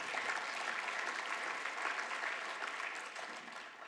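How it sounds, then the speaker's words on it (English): Audience applause at an equity keynote by a community college chancellor, a steady wash of many hands clapping at once, fairly distant and sustained throughout with no voices over it. "That's an applause line."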